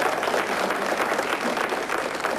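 Studio audience applause at a 1993 Greek television quiz show, a dense, steady wash of many hands clapping without pause, fairly loud and close throughout.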